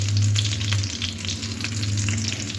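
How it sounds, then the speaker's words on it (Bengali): Bread slices fry in hot oil, a loud close continuous sizzle with a low steady hum underneath, no voices. "এরকম লাল লাল করে দুই সাইড খুব সুন্দর করে একটু সময় ধরে ভাজতে হবে"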